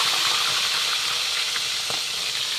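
Hot oil spitting in a pan while chicken and hotdogs fry, a loud, dense, continuous hiss close by with faint pops scattered through it and no speech.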